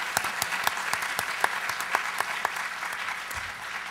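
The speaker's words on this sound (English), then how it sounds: "big give a round of applause to Brenda" A conference audience claps in a steady round of applause from many people, moderately loud and fairly even, without speech over it.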